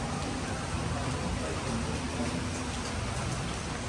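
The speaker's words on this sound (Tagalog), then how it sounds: "Pero ngayon po ay umuulan na naman. At yan, lumalakas na naman." Steady rain pours over Metro Manila, a dense unbroken hiss that swells as the downpour grows heavier, close and continuous with no voices.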